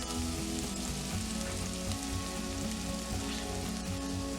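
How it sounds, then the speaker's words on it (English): Bacon sizzles steadily in a hot pan for a creamy sweet pea and bacon pasta sauce, a dense, even crackle of fat with no talking. "Now let's add our bacon."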